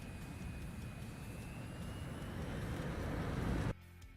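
An aircraft taxiing toward the runway in a flight combat game, a steady broad engine rumble that swells slightly before cutting abruptly near the end.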